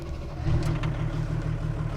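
A 6x6 Pinzgauer diesel truck drives off, its low engine drone steady and close, rising slightly partway through as it pulls away.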